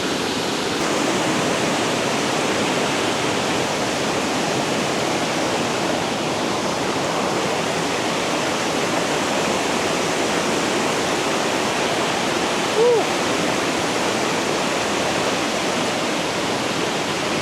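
Steady broadband rush of a waterfall or fast stream near Chiang Mai, loud and continuous throughout with no talking.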